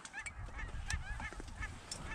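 A large flock of snow geese honks from a distance during a rainy goose hunt. Many overlapping calls rise and fall in a constant faint chatter over a hissing background.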